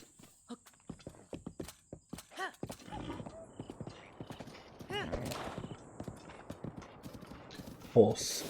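Horse hooves clip-clopping in The Legend of Zelda: Breath of the Wild, a rhythmic run of hoof beats with a whinny, heard under people talking and laughing over game sounds.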